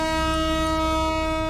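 A vehicle horn blares in the horror video game Hamless, one loud, steady, sustained honk with a rich harmonic tone that holds for the whole moment with no talk over it.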